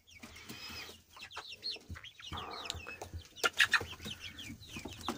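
Young chicks cluck and peep close by while pecking at carrot for the first time, a busy run of soft clucks and high chirps that comes in bursts with short pauses and rises louder near the end.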